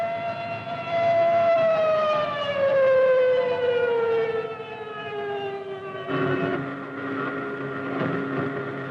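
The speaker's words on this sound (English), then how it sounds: "Alarm sirens wail over the German fighter fields" A 1944 air raid siren wails over German fighter airfields with a slowly falling pitch, loud and sustained, joined by other siren tones near the end.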